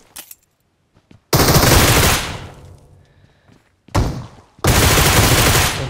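Automatic rifle fire finishes a knocked enemy in a battle royale mobile game, two loud close bursts of rapid shots separated by a short lull with faint clicks.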